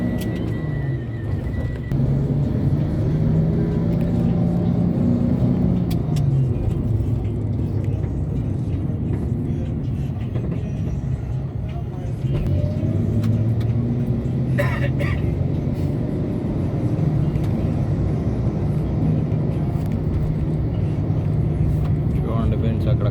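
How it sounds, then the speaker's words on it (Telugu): Heavy road traffic in Qatar, a continuous dense rumble of passing cars and buses with engine drone and occasional louder passes, heard close and steady throughout. "చూడండి ఫ్రెండ్స్, ఎంత దూరం అవుతుందో ట్రాఫిక్."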